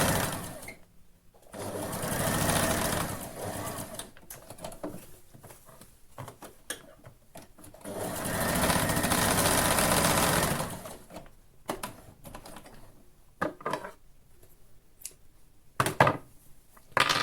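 A sewing machine runs close in two sustained whirring bursts while stitching the side seam of a sleeve, with quiet pauses and small clicks and handling sounds between runs.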